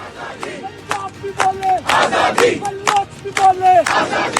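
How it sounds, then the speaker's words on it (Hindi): A crowd of protesters at a jail gate shouts rhythmic slogans for Imran Khan's release. Loud, close call-and-response chanting rises and falls in repeated bursts. "गेट पर इमरान की रिहाई के लिए धरना, नारेबाजी, हंगामा"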